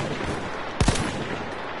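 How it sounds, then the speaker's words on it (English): A short machine gun burst in a Battlefield-style video game, two or three quick loud shots close together over a steady background hiss. "Machine gun over there."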